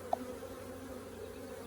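Honey bees buzzing around an open Flow Hive during an inspection, a soft steady hum close by with one brief tick near the start, no talking.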